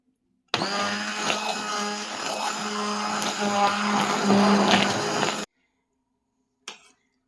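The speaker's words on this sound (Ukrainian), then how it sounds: "Вмикаю блендер і будемо так, перетворюємо наш супчик в пюре." A kitchen blender whirs loudly and steadily for about five seconds, pureeing potato and wild mushroom soup with cream. It then cuts off abruptly, and a brief faint clatter follows after the silence.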